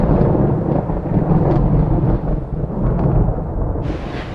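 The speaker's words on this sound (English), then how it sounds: "There's a big storm." Thunder cracking and rumbling through a big storm, a loud, continuous low roar that swells and eases over several seconds with no voices.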